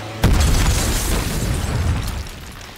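An explosion in a film, a sudden loud blast with a deep rumble that rolls on and slowly fades, with debris crackling and no talk.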